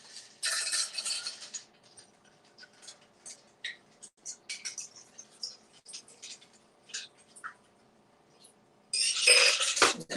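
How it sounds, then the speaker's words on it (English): A cocktail made with Peychaud's bitters is stirred, giving light clinking and ticking of ice and a spoon against glass, fairly faint, in short scattered taps, with louder bursts at the start and end. "give a nice stir here"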